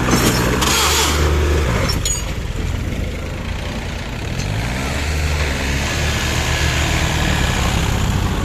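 A John Deere 3036EN tractor works with a 6-foot rotavator attached, its diesel engine rumbling steadily up close with low droning harmonics and a brief rise in pitch early on.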